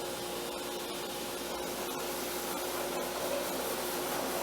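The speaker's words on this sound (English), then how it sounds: "Turn that dust collector back on" A shop dust collector runs steadily beside a sandblasting pressure pot, a continuous broadband roar of rushing air with a low hum beneath, loud and unbroken throughout with no talking.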